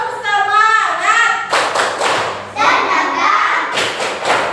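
A classroom of children in an Islamic religious education lesson chant a rhythmic spirit clap routine, their voices singing along with bursts of group clapping and thumping between the chanted lines.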